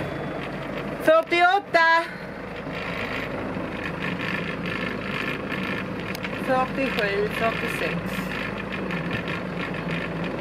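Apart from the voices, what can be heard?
sailboat's engine running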